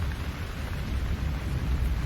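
Returning rain hisses down steadily with a deep, rolling rumble of thunder underneath, a dense, continuous wash of sound with no voices.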